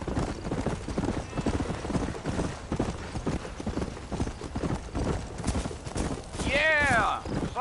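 Horse hooves clip-clop in a steady trot in Red Dead Redemption on PS5, a rhythmic hoofbeat under spoken dialogue, ending with a clear whinny.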